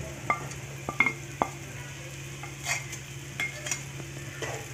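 Ginger, garlic and green chili sautéing in a pan over medium flame with salt and turmeric, a low steady sizzle broken by sharp spoon taps and scraping strokes against the pan, close and without voices.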